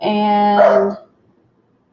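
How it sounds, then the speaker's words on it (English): One long, tonal, howling bark from a dog indoors lasts about a second and is loud and close, followed by quiet, as the dog reacts to a man across the street. "That's my dog."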